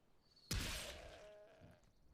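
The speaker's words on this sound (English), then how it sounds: "It's interesting the like critical hit sound effect" Glass-like shattering critical-hit effect in Skyrim as a goat is slain, a sharp sudden crash followed by a ringing, decaying tail with a faint bleat-like tone, heard alone.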